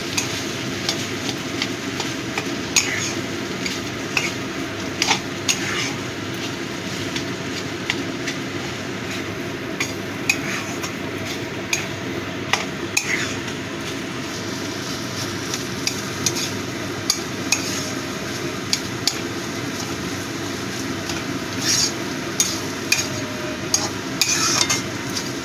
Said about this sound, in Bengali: এবার আলুটাকে এর সাথে ভালো মতো মিশিয়ে দেবো।